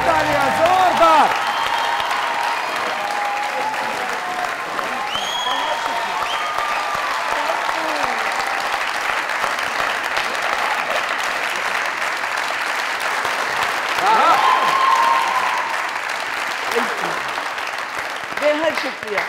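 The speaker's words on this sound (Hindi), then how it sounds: "जोरदार तालियां, जोरदार।" Loud, dense applause from a comedy talk show studio audience fills the room steadily, with scattered cheers and a host's voice briefly rising over the clapping.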